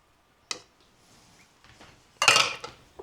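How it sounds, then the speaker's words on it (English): Oatmeal is dropped into a store-bought pie shell for a poor man's pecan pie, a short sharp tap followed by a louder rustling, clattering pour near the end, close and quiet between. "Put our oatmeal in there."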